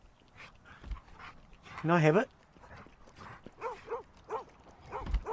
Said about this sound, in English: Where are you taking that poor dog?